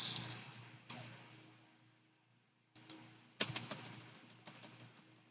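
Typing on a computer keyboard: scattered key clicks at first, a pause, then a quick run of close, crisp keystrokes, with no talking.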